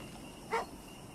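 A single short dog bark from a video game set in a Halloween-themed Unknown Region, a brief midrange yelp standing out once above a steady low background hum.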